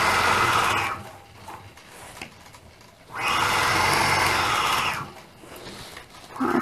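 A sewing machine quilting, stitching in the ditch, runs in two long loud bursts of steady whirring, with quieter pauses between them and a brief restart at the end.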